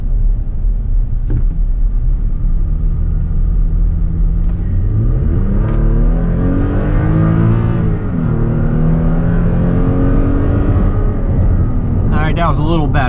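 A Toyota Tacoma pickup with a KDMAX tune pulls from 20 to 60 mph with a loud, steady engine rumble that climbs and drops through gear shifts, close and sustained under faint talk.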